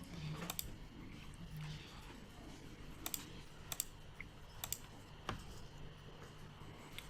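Quiet, sparse presses of a computer keyboard's space bar, single clicks spaced irregularly over a faint background hum.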